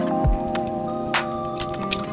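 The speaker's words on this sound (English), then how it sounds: "And time to crack the egg." A single egg cracked against a bowl while making a Chinese pancake breakfast, giving one short, close crack followed by a faint wet squish and small clinks over a steady kitchen hum.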